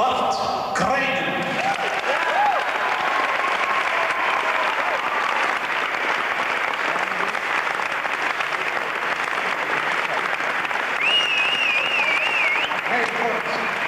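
Audience in the Concertgebouw Amsterdam applauding Bart Krijnen at the 1993 NL Trofee, loud sustained clapping filling the hall, with a brief whistle-like tone rising above the crowd near the end.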